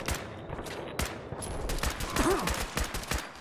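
Rapid bursts of gunfire from the modded shooter game Fallout 4 crack out in close, repeated volleys over a steady background din, with a short whooshing effect midway.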